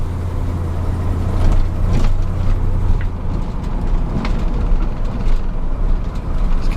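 A fire department special operations truck with 14,000 miles rolls along a bumpy road, a steady loud low engine drone with road rumble and occasional clunks from the heavy rear bed, no voices.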